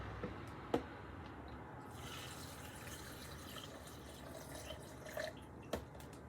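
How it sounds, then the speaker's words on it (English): Water pours steadily into a blender for several seconds, a soft continuous splashing with a few brief drips and clinks, fairly quiet and close. "We're going to add our water."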